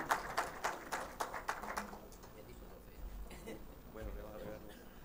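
A short burst of clapping from a conference audience greeting a presenter at an electromobility innovation event in Antofagasta. It starts crisp and rhythmic, fades after about two seconds, and leaves quiet room murmur.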